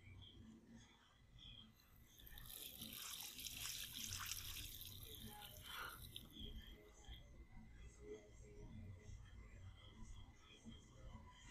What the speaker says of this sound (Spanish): la única acción aquí es el grifo